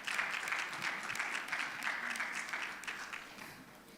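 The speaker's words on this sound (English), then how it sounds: "A round of applause for him, please." An audience at a financial literacy summit claps for a guest being introduced, producing a steady, moderately distant round of applause with crisp individual claps throughout.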